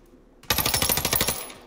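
Automatic gunfire in a video game bursts in abruptly after a near-silent moment, a rapid, loud rattle of shots that tails off at the end.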